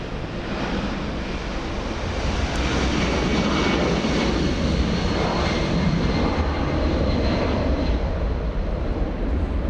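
Boeing 757 jet departing Los Angeles International Airport for Atlanta, its loud, broad engine roar filling the air steadily and without a break, heard from a plane-spotting spot near the runway.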